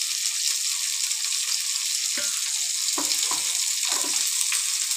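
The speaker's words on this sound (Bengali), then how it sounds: "এবার আমি তেলের মধ্যে দিয়ে দিচ্ছি পেঁয়াজ কুচিয়ে রেখেছি। পেঁয়াজ কুচানোটা দিয়ে দিলাম।" Chopped onion and crushed garlic sizzle steadily in hot oil, with a few soft stirring knocks and scrapes near the pan in the second half and no talk.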